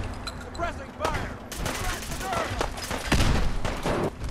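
Gunfire from the video game Fallout 4 comes as scattered shots and rattling bursts during a firefight, loud and dense, with a player's voice talking over it.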